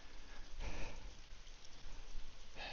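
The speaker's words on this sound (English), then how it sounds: "It's this rain, man." Steady rain pours down on Mt Fuji during an offseason hike, with heavier gusts of drops swelling and fading, close and continuous with no voices.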